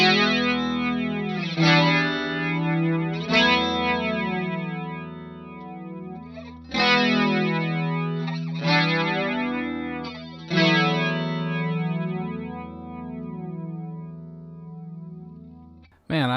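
Electric guitar through a TC Electronic SCF Gold chorus pedal with the speed turned down, playing slow ringing chords that shimmer and swirl as each sustains and fades, struck about five times.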